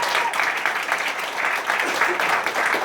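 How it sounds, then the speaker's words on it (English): An audience at a comedy show claps steadily and fairly loudly, a sustained round of applause. "Let's give a round of applause for my brother"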